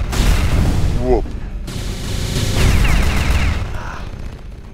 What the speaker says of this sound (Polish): Te eksplozje, te wybuchy